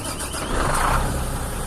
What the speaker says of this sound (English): I had to start it because plenty guys out there are asking if I can start the truck for them.